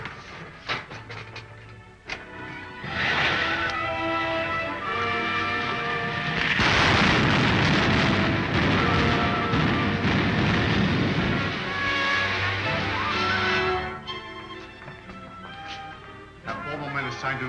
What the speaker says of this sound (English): Fire the starting rockets, Wilma.